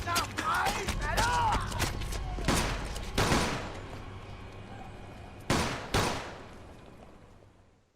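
Gunfire in the Mafia II video game: a ragged burst of several sharp shots early on, then two loud isolated cracks near the end, over a busy game soundtrack with a little voice mixed in.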